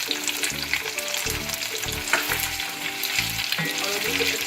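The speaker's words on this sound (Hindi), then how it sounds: "और अभी कुछ अच्छे से भून लें।" Dry chili, salt and garlic-ginger paste frying for chicken karahi, a loud continuous sizzle broken by repeated scraping stirs of a spoon against the pan.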